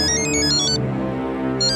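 Electronic phone ringtone playing a repeating melodic pattern in a home setting, loud and close, one ring cycle trailing off before starting again, with no talking.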